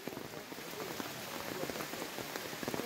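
Steady rain falling outdoors near a river, a dense continuous patter of drops on surfaces, close and even with no talk.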